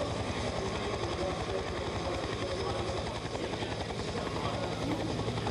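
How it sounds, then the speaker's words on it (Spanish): A helicopter flies over a professional cycling race, the 2009 Vuelta a España stage around Liège, Belgium, with a continuous, loud, rhythmic rotor chop and engine whine throughout. "El helicóptero que vuelve a buscar el grupo"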